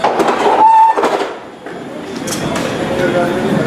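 A train arrives at a station platform, rumbling and rattling along the rails nearby, a brief horn-like tone early on, with voices and a station announcement blending in.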